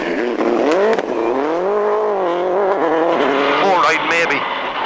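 A rally car at speed on the Manx International Rally, its engine note loud and rising and falling steadily through gear changes, with brief tyre noise near the end and people talking over it.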